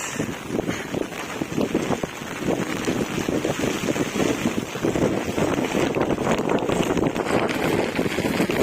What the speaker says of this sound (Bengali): প্রচণ্ড বাতাস বাতাসের কারণে মোবাইলটা ধরে রাখাই সম্ভব হচ্ছে না এত পরিমাণ বাতাস